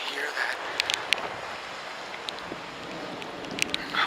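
A plane passes high overhead outdoors as a faint, steady broadband rumble mixed with gusting wind, with a few brief clicks and no voices.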